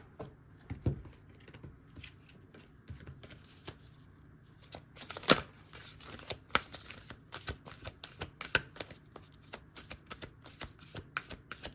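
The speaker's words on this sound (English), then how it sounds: "Let me just shuffle these real quick since they're in my hand." A hand shuffles tarot cards close up, with scattered soft taps at first, then a busier stretch of crisp riffling and flicks.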